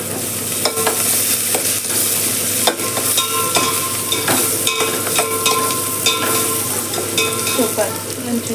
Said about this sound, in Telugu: సూపర్, మంచిగా వేగుతుంది